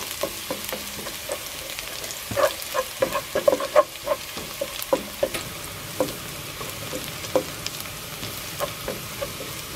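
Minced garlic frying in a pan for pancit lomi, a steady close sizzle broken by bursts of popping crackles and a few stirring scrapes, with no talking.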